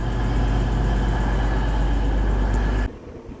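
A train with nine coaches rumbles and idles loudly at a York railway station platform, a dense continuous low roar that cuts off abruptly near the end, leaving quieter station ambience.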